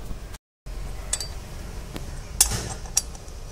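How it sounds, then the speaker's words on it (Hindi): Faint metallic clinks and taps of tools working on a car flywheel during removal, a few sharp isolated hits over a low workshop rumble, with no talk. "फ्लाईव्हील ओपन कर रहे हैं,"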